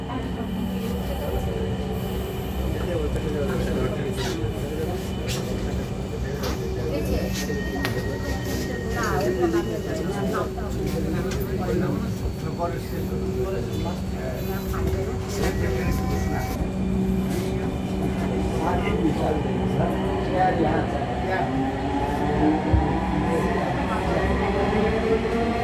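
Dhaka metro rail train on the Uttara line running between stations, a continuous interior rumble with rising motor whine and some wheel squeal, under recorded announcements.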